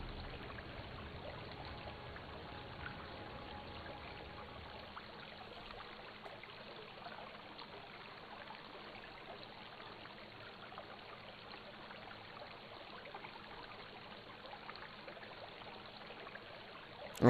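Steady rushing water like a waterfall or flowing stream in a Kingdom Hearts game scene, a continuous soft wash that holds evenly throughout, moderately quiet, with no voices.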